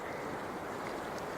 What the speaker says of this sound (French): C'est les vagues.